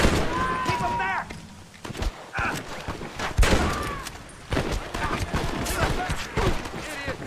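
Gunfire in a Red Dead Redemption shootout, sharp shots scattered through the clip, partly mixed under shouting voices.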